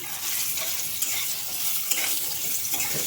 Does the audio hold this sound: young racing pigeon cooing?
no